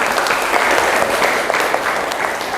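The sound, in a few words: group applause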